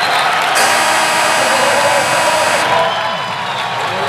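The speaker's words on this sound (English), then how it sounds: "The crowd loves that from Keller in Winston-Salem." A home crowd cheers in the arena at Winston-Salem during a Wake Forest men's college basketball game against Virginia Tech, a loud, sustained roar that swells and then eases slightly toward the end.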